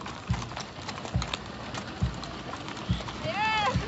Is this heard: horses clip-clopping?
yes